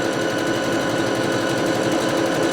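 A bernette Sew&go8 sewing machine runs steadily while stitching a mirrored decorative pattern, giving a continuous, even mechanical whir with rapid needle chatter, close and alone throughout.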